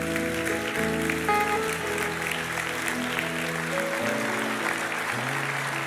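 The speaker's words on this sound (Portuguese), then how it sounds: "Você pode dar uma salva de palmas para Jesus?" A church congregation applauds during a public worship service, with scattered clapping from many hands over sustained, held musical tones that shift pitch now and then.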